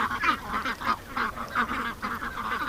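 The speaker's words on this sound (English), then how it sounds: "wild female duck over here" A wild female duck quacks repeatedly in a quick, uneven series of nasal calls, fairly close and moderately loud, standing out over faint outdoor background.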